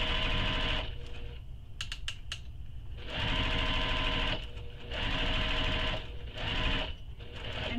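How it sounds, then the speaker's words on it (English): A sewing machine bastes the outer edges of a crossbody bag, exterior and lining together, in a few loud bursts of rapid stitching with short pauses between runs. "So now we're going to baste these outer edges together"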